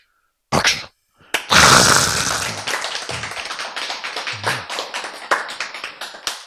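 A church lecture audience breaks into applause, a dense burst of many hands clapping that starts loud and then thins into a steady patter of scattered claps for several seconds, with no talking over it.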